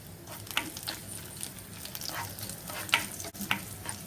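Finely chopped ginger and garlic frying in a pan for a red chili momo chutney, crackling close by with scattered sharp pops over a continuous soft sizzle.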